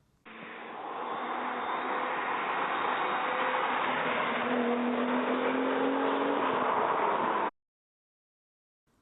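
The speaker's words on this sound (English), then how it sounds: "1G GTE exhaust note." A Toyota Soarer coupé's 1G-GTE engine drones steadily through its exhaust for about seven seconds, a continuous close, loud note with a slight rise in pitch midway, then cuts off abruptly into silence.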